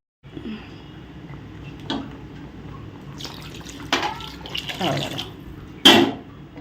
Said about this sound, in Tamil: கொஞ்சம் தண்ணி ஊற்றும்